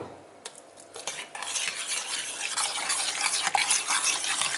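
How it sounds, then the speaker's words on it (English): Tomato puree being stirred in a pot with a spoon, giving steady scraping and clinking under a soft background sizzle, fairly loud and continuous with no talking. "Give it a good stir."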